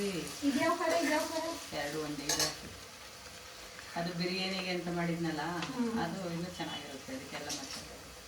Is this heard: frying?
yes